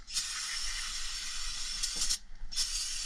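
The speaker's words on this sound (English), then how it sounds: "So now, put some brake clean on this." Brake cleaner sprayed onto brake parts during a full brake job on a Ford SVT Lightning truck, a loud steady aerosol hiss lasting about two seconds, a short pause, then a second burst, with no talking.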